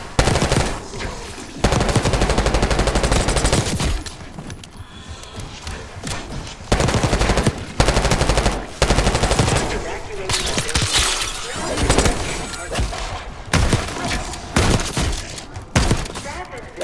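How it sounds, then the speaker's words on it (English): Sustained machine-gun fire and bursts of gunshots echo through a building in Call of Duty Black Ops 6, coming from lower floors, loud and dense with short gaps between volleys. "Gunfire? Yes. Sounds like it's coming from one of the lower floors."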